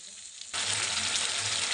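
Tangra fish curry being sautéed in oil. A faint background gives way to a sudden, loud, close and continuous sizzle that holds to the end.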